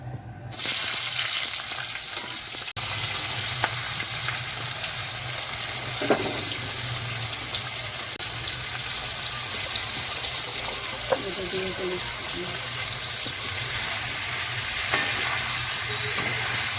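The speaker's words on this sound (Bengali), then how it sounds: "এবার পেঁয়াজ আর ক্যাপসিকামটা হালকা ভেজে নেব।" Onion and capsicum lightly frying in oil in a pan give a loud, steady, close sizzle throughout, broken by a few occasional stirring scrapes.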